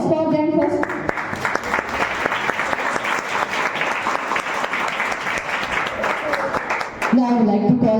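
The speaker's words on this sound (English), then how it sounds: "give a huge round of applause for them first" A crowd at a high school Science Day celebration claps in sustained applause for several seconds, a dense patter of many hands, with a voice speaking briefly just before and after.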